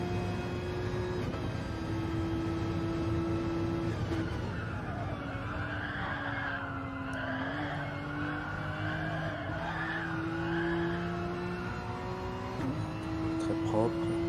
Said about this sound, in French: Toujours un joli son cette Porsche